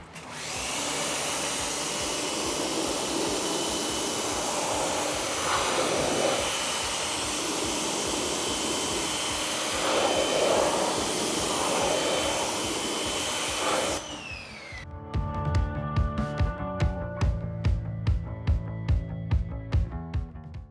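A water spray rinses off a clay bar and clay towel used for car paint decontamination, giving a loud, steady hiss for about fourteen seconds before it cuts to a different rhythmic, pulsing sound.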